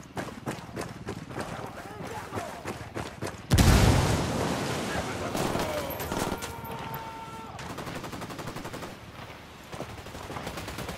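Rapid bursts of gunfire in the tactical shooter Ghost Recon Wildlands, with a sharp rattle of repeated shots, then a heavy boom around four seconds and continued loud firing and explosions.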